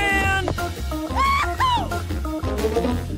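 A cat meows several times in a row, with rising and falling cries set over steady background music in a lively comedic French challenge sketch.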